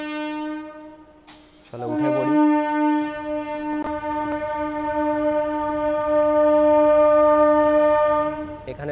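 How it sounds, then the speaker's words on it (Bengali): A local train sounds a long, loud, sustained horn at a small halt station, preceded by a brief shorter blast; a person speaks briefly near the start. "আর ট্রেন হর্নও দিয়ে দিয়েছে"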